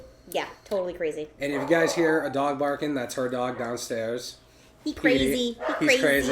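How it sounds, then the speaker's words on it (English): A dog barks and whimpers from downstairs in a house, picked up faintly beneath people talking and laughing over it throughout. "if you guys hear a dog barking, that's her dog downstairs"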